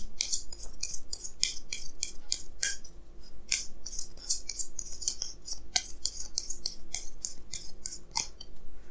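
Tarot cards are shuffled and drawn in a steady flurry of crisp, close, dense rustling and snapping card sounds with no talk.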